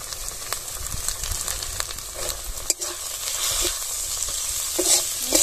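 Ground cumin paste, turmeric, chilli powder and salt fry in oil in a pan, a steady close sizzle broken by scraping stirs, with no voices.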